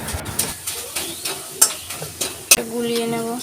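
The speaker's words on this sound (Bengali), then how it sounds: "তো আমুল দুধ গুলিয়ে নেব।" A spoon stirs Amul milk powder into hot water in a bowl, giving a run of soft, close scraping and swishing strokes, with a couple of sharper clinks against the bowl near the end.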